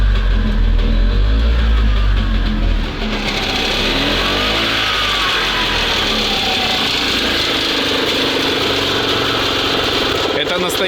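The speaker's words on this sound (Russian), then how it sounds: "Газует, блин." The engine of a Soviet SMZ invalid motor carriage revs loudly and steadily at its first start after long storage, droning close by for several seconds while people talk over it.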